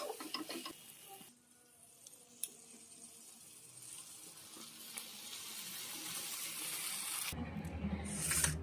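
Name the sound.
fish added to fried spices, cooking in a pan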